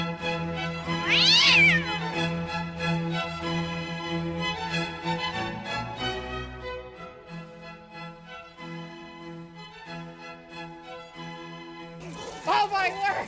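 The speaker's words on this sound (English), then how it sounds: "My cat is going crazy!" A pet cat meows loudly and excitedly in a strained, rising cry early on, over a steady hum and background music, with a person exclaiming near the end.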